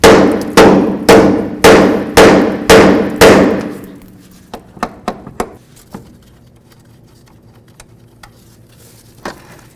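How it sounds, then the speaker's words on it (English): Six loud, evenly spaced metal hammer blows ring out close by on the steering knuckle of a 1998-2002 Honda Accord, followed by a few lighter taps and fading clinks. "Now we're going to use our hammer and bonk right along this area here."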